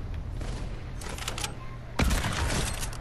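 Gunfire in Fortnite, Gun Game mode: rapid bursts and sharp shots with a heavier blast near the middle, close and loud over game ambience.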